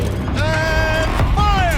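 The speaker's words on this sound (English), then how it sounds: "Rotate turret!" A heavy turret swivels in Horizon Zero Dawn with a steady mechanical creak and grinding whine, rising in pitch as it turns, sustained across the moment and loud up front.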